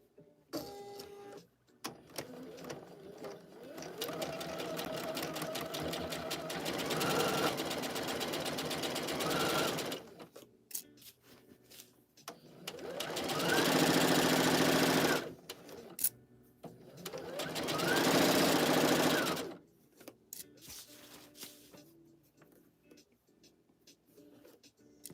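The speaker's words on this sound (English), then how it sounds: "Stitching the shoulder seams." A sewing machine stitches shoulder seams at a 5/8-inch allowance on a McCall's 8313 garment, running in three steady whirring bursts of several seconds each, separated by short pauses, close and moderately loud.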